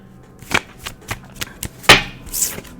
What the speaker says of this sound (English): Let's keep shuffling and pull out a normal spread for Cancer.